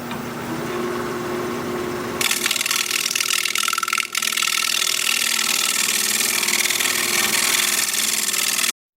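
A wood lathe turns a bug-riddled bowl blank of unidentified wood while a gouge does pull scraping along the side, giving a steady, loud, continuous hiss of cutting that carries on unbroken through the clip with no talking.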